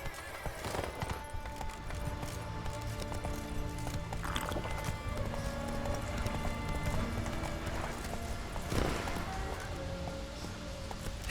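Roach, Geralt's horse in The Witcher 3, trots with steady rhythmic hoof clip-clops over a busy game soundscape of music and ambience, a brief snort or whinny mixed in.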